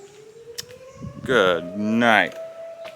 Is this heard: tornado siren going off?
yes